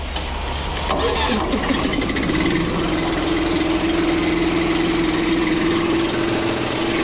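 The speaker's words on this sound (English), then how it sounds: "Gonna crank the compressor up, man. We're gonna get him aired up" An air compressor cranks up and starts, quickly settling into a loud, steady, close mechanical drone with a rapid pulsing rhythm, running without pause to air up a tire outdoors in hot weather.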